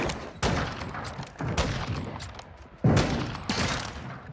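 Shotgun blasts in a Battlefield-style first-person shooter: four loud, booming shots at irregular intervals, each with a sharp attack and a short rumbling tail.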